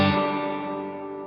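A strummed guitar chord rings through an Amplified Nation Six String Sustain amp with heavy reverb, a bright attack blooming into a thick, slowly fading wash.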